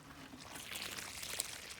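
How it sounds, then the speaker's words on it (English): Water is poured into a freshly dug planting hole about nine inches deep in a garden, a soft continuous splashing gush, close and steady with no talk. "I'm going to pre-water these holes"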